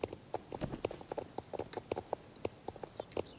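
A mare's hooves clip-clop in a steady walking rhythm, crisp and fairly close, with no talking over them.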